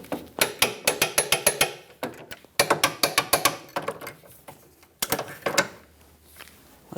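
A ratchet clicks in several quick bursts of rapid ticking while torquing the lower control arm bolts on a 2008-2012 Jeep Liberty rear suspension, loud and close, with short pauses between strokes and no talking.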